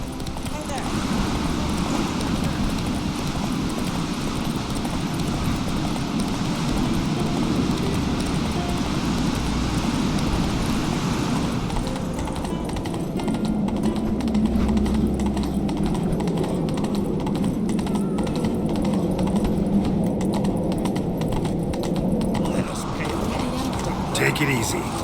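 Geralt's horse Roach from The Witcher 3 gallops in a fast, continuous run, the hoofbeats rolling steadily over ambient game sound, with speech heard over the top.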